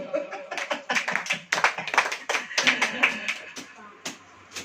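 A church congregation claps hands at a sermon, a run of sharp, uneven claps in quick bursts, loud and close, with a voice and some chuckling between them.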